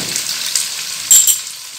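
Chicken korma sizzling in a pan as fried onions go in, a steady close crackle with a brief louder burst of frying midway.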